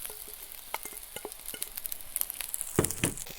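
Bacon, sausage and ham sizzle and crackle in a hot pan with crispy potatoes, with sharp pops and stirring scrapes growing busier and louder toward the end.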